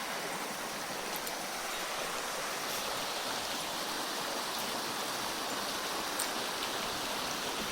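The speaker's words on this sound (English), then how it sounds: "whilst the water is very fast, right, there are actually plenty of rocks near the surface" Fast-flowing river water rushes over shallow rocks near the surface, a constant dense broadband roar and splash, steady and fairly close, with no voices.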